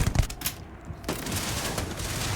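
Laser shotgun fire in the video game Starfield, a dense, loud burst of rapid crackling shots followed by a sustained noisy wash of gunfire and action sound, no talking over it.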